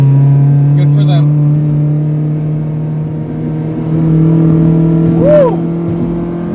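Inside a 2003 Acura RSX on a back road, a steady engine drone holds under the road noise, then lifts briefly in a short rising rev. People talk inside the car.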